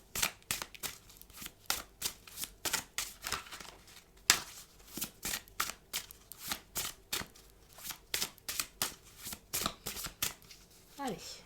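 An oracle deck of cards shuffled by hand, with rapid rhythmic riffling flutters close up and a card drawn near the end, a voice speaking over it.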